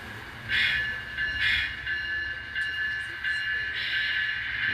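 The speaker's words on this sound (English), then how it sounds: "Not a bad running locomotive." A small ET44AC scale model train locomotive runs along its track with a steady whirring rumble and repeated high metallic squeals from the wheels, close by and without voices.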